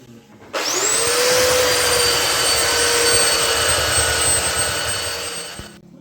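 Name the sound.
electric sander sanding wooden mantelpiece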